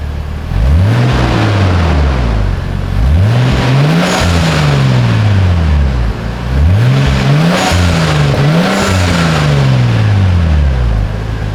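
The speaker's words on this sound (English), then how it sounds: "Go ahead and rev it up a little." Nissan Skyline R34 GTT with its RB25 engine on the stock exhaust, revved in a series of about five rising-and-falling blips, loud and close, with the idle rumbling steadily in between.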